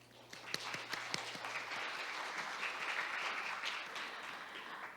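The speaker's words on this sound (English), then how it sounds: "Please give all participants of the session 4 a big round of applause once again." Applause from participants and audience at the close of an international judicial policy research conference session, a steady wash of many hands clapping at moderate level, with a few sharper individual claps near the start.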